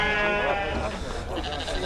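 Sheep bleat at a busy livestock market, a loud, wavering bleat sounding up close over crowd noise and voices.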